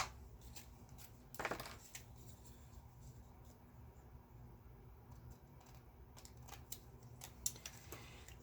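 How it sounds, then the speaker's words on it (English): A short crisp snip of scissors cutting a paper strip, then quiet rustling and faint handling noises of a tabletop craft. "And then I can just clip it with my scissors."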